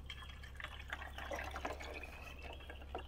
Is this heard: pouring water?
yes